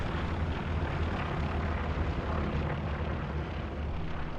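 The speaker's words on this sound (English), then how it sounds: "Like a WRTB plane, recon plane's going up in answer." A recon plane droning overhead in a World War II tank combat game on a Utah Beach map, a dense, steady engine roar mixed with distant rumbling battle noise.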